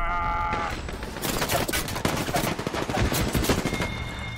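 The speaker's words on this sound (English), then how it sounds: "The other team is shooting at us." Repeated gunfire in a video game from an opposing team, made up of crackling bursts and quick runs of shots at a loud level. Game tones are heard faintly at the start and again at the end.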